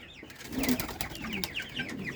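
Pigeons coo softly in low, throaty murmurs amid a busy background of shuffling and faint chirps, close by and fairly quiet.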